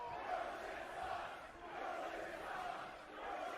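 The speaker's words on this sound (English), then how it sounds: "The crowd is chanting, "Your ship sucks,"" A wrestling crowd aboard a cruise ship docked in Nassau chants in a steady, repeating rhythm, the massed voices swelling and dipping in loud waves that fill the whole stretch.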